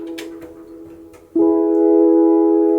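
Keyboard organ patch for a song swells in after a softer intro and holds a steady, loud sustained chord with rich harmonics, alone with no voices.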